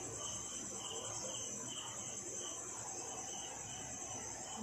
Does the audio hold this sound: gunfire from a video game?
no